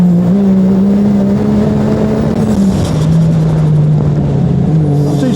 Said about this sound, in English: Man, that intake is noisy.